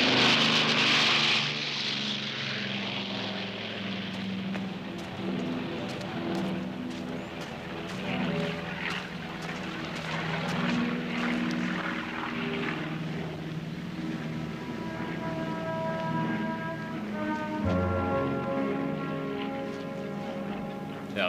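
A propeller airplane drones past, its engine tone holding steady then dropping in pitch as it passes, loud and close with a steady hum, no speech over it.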